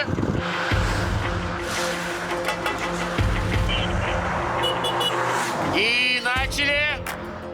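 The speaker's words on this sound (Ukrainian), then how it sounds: "Поїхали машини, поїхали." Cars pulling away on a film set, engines revving with a brief tire squeal near the end, loud and close, with a voice calling out over the motors.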